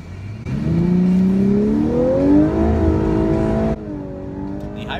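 A 2018 Lexus LC500h hybrid coupe engine revs up steadily on the Circuit of the Americas track, its pitch climbing for a few seconds before dropping off abruptly, loud and close, with no talking.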